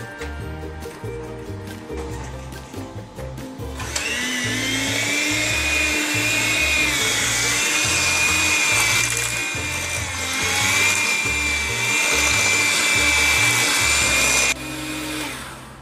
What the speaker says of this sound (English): Mix them together with the hand mixer.